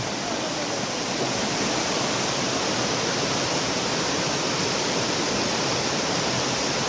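A waterfall at Khao Laem National Park in Kanchanaburi roars steadily and close, a dense unbroken rush of falling water filling the whole clip without pauses.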